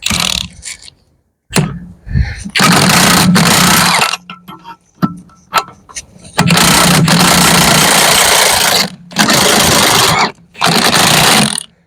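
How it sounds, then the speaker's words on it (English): Front spring compressor on a BMW E92 3 Series suspension being undone with a power tool, loud close bursts of whirring and rattling hammering, several long runs broken by short pauses and small clicks. "now undo the spring compressor"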